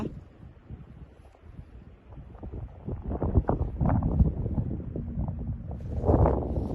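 A dry, cold wind by a lakeside in Sweden, buffeting the microphone as a low, rumbling gusty roar that grows stronger partway through.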